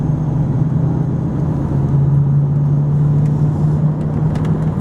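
A pickup truck on 285 mud-terrain tires with about half their tread left pulls onto a freeway at quarter throttle, its engine giving a steady, loud low drone with constant tire and road rumble throughout.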